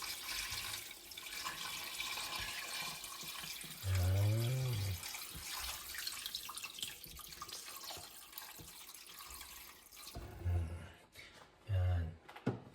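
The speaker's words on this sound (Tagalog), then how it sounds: "Ang susunod po natin lalagay ay ang tubig." Water pours from a tap into a cooking pot for chicken tinola, with short gushing bursts between quieter stretches and a voice talking over the kitchen sounds.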